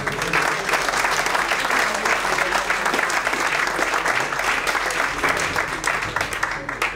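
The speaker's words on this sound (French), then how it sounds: "et on peut les applaudir" An audience at a French question-and-answer gathering breaks into sustained, fairly loud applause, a thick even texture of many hands clapping that continues throughout with little sign of talk.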